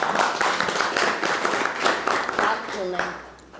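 An audience at a lecture on the world's proto-languages claps in steady rhythmic applause, moderately loud, with a voice speaking over the end.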